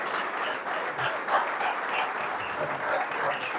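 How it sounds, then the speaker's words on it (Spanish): A church congregation claps together in a steady, moderately loud burst of applause that runs throughout, with some voices mixed in. "Denle un aplauso a Dios si usted lo cree."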